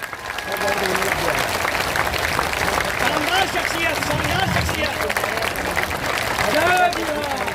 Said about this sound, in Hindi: ताली, जोर से ताली बजाइए।